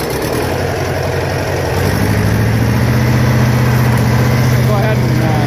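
An old International tractor engine turns over and catches. The rough cranking gives way to a loud, steady idle that settles into a constant low drone, close by and outdoors.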